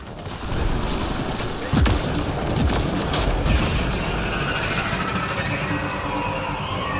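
Grenade explosions and combat in the video game Mass Effect: Andromeda: loud, continuous roaring blasts and booms with gunfire layered throughout, a sharp heavy hit near the two-second mark, and the noise barely easing.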